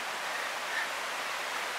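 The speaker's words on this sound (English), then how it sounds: "kind of behind us, we got this creek" A creek flows behind a wet backpacking campsite in the northern Smoky Mountains, its water making a steady, fairly close hiss and rush with no talking.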